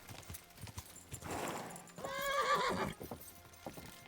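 A horse in the medieval game Kingdom Come Deliverance 2 clip-clops with rhythmic hoofbeats, then lets out a loud neigh midway, while someone talks faintly in the background.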